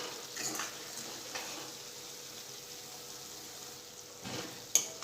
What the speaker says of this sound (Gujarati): આ રીતે મીડિયમ ગેસ પર આપણે લસણને આ રીતે ચડવા દઈશું